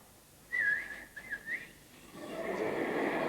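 Solo whistling of the opening theme of a Mozart overture, a clear, close melody of short rising and falling phrases, followed by a rising wash of hiss or applause-like noise.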